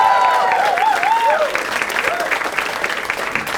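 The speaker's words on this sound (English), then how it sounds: "Huge round of applause to you guys." Studio audience applause for a comedy quiz show, a dense, steady wash of clapping with crowd noise that holds loud and even throughout, with a host's voice swooping over the start.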